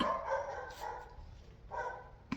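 A tied-up dog barks in a few bursts at moderate distance, with gaps of quiet between them and no talking over it.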